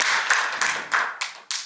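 An audience at a yoga lecture claps in a thin, uneven way. About half a dozen separate claps come at roughly even intervals, fairly close and moderately loud.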